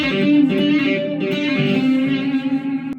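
Distorted electric guitar plays quick legato hammer-ons and pull-offs, pitches shifting smoothly in a fluid run without picked attacks, with a click at the end.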